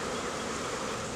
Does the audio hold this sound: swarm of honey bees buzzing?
yes